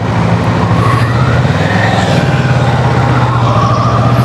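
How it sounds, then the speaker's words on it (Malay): An engine idles steadily while warming up, giving a constant, loud low-pitched rumble with a dense mechanical drone and no break throughout. "Selain daripada panaskan enjin ni"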